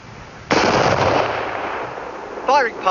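A firing party of soldiers fires a single rifle volley at a First World War British Army execution: one loud, abrupt crack with a long rumbling decay, followed by a voice calling out.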